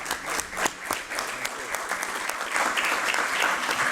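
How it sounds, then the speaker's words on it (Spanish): An audience at a bicentenary commemoration event in La Rioja claps for a speaker, a moderate room of applause with distinct individual claps, swelling slightly louder toward the end. "Un aplauso para él"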